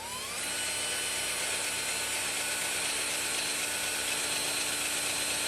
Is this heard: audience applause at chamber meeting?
no